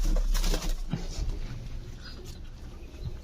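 Homing pigeons give low cooing calls close by, mixed with rustling and handling noise, with a few thumps near the start.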